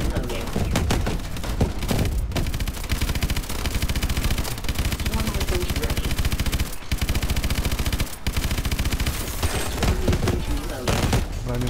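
Dense automatic gunfire from Call of Duty: Advanced Warfare, with sustained rapid bursts and heavy shots filling the clip almost without pause, loud and close, with brief gaps between volleys.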